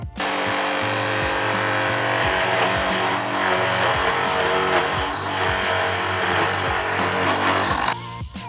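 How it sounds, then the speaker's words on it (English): A steady, loud drill press whir fills the clip, with repeated dips in pitch as the bit bites into wooden boards, then it winds down near the end. "take this over to my drill press and drill my starting holes"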